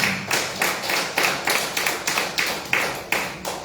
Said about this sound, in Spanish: Dale una prenda de palmas a todos nuestros hermanos